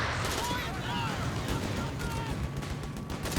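A .50 cal machine gun fires in Company of Heroes 3, with dense, rattling bursts layered among other battlefield gunfire and distant blasts, loud and sustained throughout.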